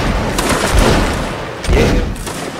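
A musket line volley in the Napoleonic Wars mod of the video game Mount & Blade: Warband. Loud, dense crackling gunfire rolls on without a break, with two heavier surges of shots close together.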